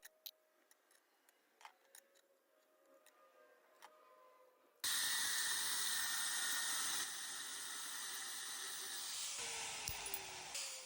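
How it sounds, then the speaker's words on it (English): Drill boring holes into a transmission crossmember mount, a loud steady whine with high metallic hiss that starts abruptly after a stretch of quiet clicks and rustling, then continues at a slightly lower level to the end. "So now I need to get a couple of holes drilled that'll line up with this trans cross member mount here"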